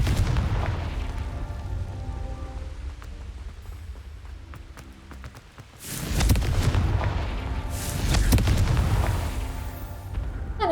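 Booming spell blasts in Hogwarts Legacy, fire from the Confringo curse, roll out in heavy low rumbles over a steady game background, with the loudest bursts toward the end.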